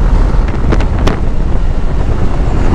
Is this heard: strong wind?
yes